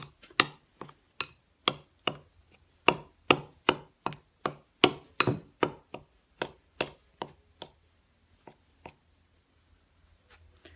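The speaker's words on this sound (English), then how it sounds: "you're gonna take a knife, you're gonna cut it" A knife cuts butter into flour for pie crust on a New Hampshire homestead, giving about twenty crisp, evenly spaced chops, close and fairly loud, that slow and thin out toward the end.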